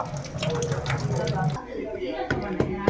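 Water runs steadily from a tap, splashing as something is rinsed, with a voice speaking over the first half before the flow continues alone.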